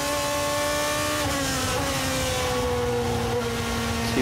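An onboard view of a 2012 GP2 race car at Spa: a loud, steady engine whine drops in pitch through two downshifts, then holds a lower drone.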